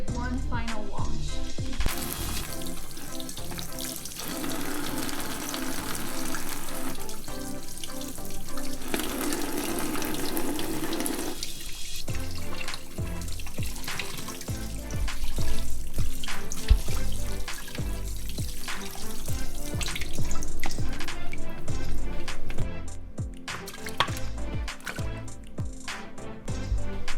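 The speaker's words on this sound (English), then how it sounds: "I'm now going to drain the meat and give it one final wash." Tap water runs steadily into a sink over raw short ribs being rinsed and drained, a loud, close rushing splash that changes tone as the meat and container shift under the stream, with no talking.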